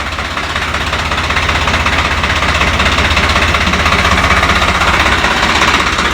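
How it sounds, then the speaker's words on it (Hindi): A Swaraj 843 XM 4x4 tractor with a three-cylinder diesel engine and an inline fuel pump runs steadily, a loud, close, continuous throbbing rumble with a dense rattling texture and no talking. "3 सिलेंडर इंजन है"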